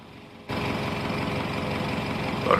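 Engine of an AW-109 helicopter in the Prepar3D flight simulator, a loud steady low drone that starts abruptly after a brief quiet moment and holds constant.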